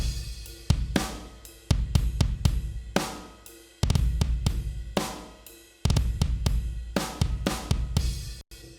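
Drum mix running through a Molot GE compressor limiter: punchy kicks with full low end and crisp snare and cymbal hits in a steady groove, loud and dense, with no voices.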